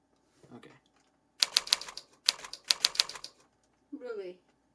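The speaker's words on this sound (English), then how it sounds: "I'm going to try to type." Rapid keystrokes tapped on a keyboard during a capture card test, coming in two dense bursts of clicks, with brief talk before and after.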